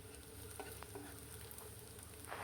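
Hilsa fish tail mash with garlic and green chili fries in a pan, giving a steady soft sizzle with a few light scraping stirs, quiet and without talk.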